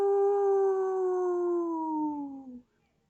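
A voice imitates a ghost sound for the letter W, producing one long, steady wavering hoot that slowly sinks in pitch and ends after about two and a half seconds, close and alone.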